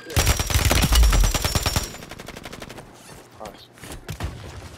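Video game gunfire in a firefight around a building: a dense burst of rapid automatic shots, then scattered fainter pops, with players talking over it.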